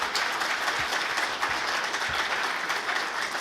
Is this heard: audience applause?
yes